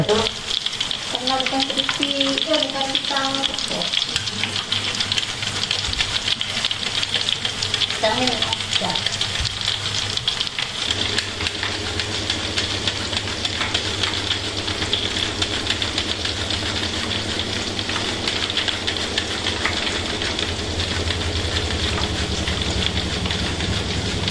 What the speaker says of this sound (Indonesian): lakukan pengirisan atau pemotongan pisang langsung di atas minyak yang telah mendidih